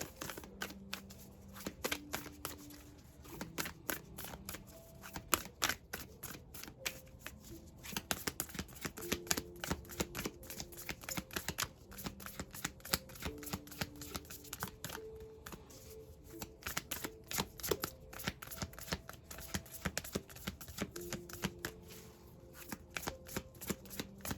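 Oracle moon cards being shuffled and drawn, with rapid crisp riffling flicks and soft taps in repeated bursts, close and fairly quiet, while faint background music plays.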